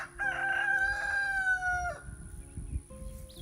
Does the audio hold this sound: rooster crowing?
yes